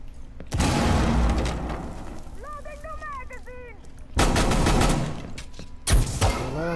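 Rapid bursts of gunfire and booming explosions in a first-person shooter video game, loud and close, coming in dense volleys with a short pause between them.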